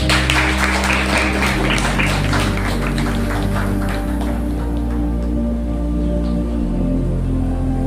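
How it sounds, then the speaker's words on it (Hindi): Applause from a church congregation during a Hindi Sunday service, a dense steady clapping that runs the full length under sustained organ-like keyboard tones. "परमेश्वर के लिए जोरदार ताली हो जाएगी"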